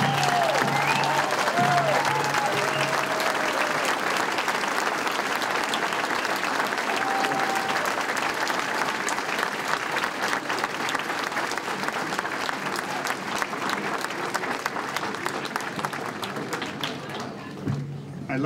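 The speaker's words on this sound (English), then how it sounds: "can we have all the new firefighters stand up so we give them a round of applause?" A large audience gives sustained, dense applause for newly graduated Boston Fire Department recruits at their graduation ceremony, loud and steady throughout before tapering off near the end, with voices and chatter mixed in underneath.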